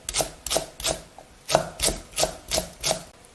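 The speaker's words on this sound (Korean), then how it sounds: "어슷하게 썰어줘요." Knife cutting green onion at a slant on a wooden cutting board, about nine crisp, evenly spaced chops, each with a sharp thud and slight crunch, close and clear with no voices.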